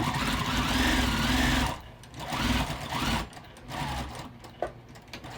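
A sewing machine stitches a quilted bag in steady, fast mechanical bursts, running continuously at first, then pausing and restarting in shorter runs with a small click near the end.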